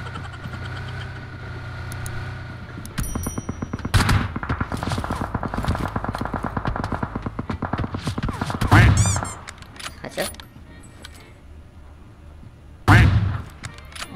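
Rapid automatic gunfire in a video game, loud bursts with a running engine hum beneath and a couple of sharp blasts near the end.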